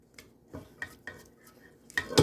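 A utensil works cornbread batter around a mixing bowl, giving a few separate scrapes and light clinks spaced through a quiet stretch, with the loudest knock at the end.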